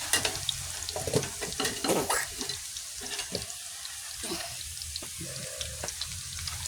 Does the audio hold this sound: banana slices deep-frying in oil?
yes